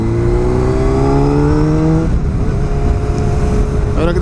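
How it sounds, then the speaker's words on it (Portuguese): A Honda CBR600RR motorcycle engine misfiring after sitting unused, loud steady revs that drop abruptly midway into an uneven, stumbling idle, as someone talks over it. "Agora que dá umas falhadas legal."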